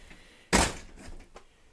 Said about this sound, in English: Let's close this door.